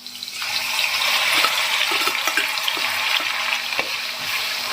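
Cumin, mustard seeds and coriander crackle and sizzle in hot oil for kachori, a close, continuous frying hiss with small pops and a stirring clink or two.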